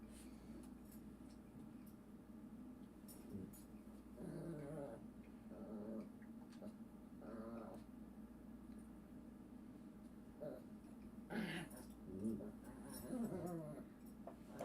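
Two dogs whimpering and growling indoors, a few short faint whines and low growls spread across the stretch over a quiet background hum.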